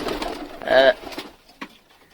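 A pigeon gives one short, close coo, followed by faint rustling and quiet.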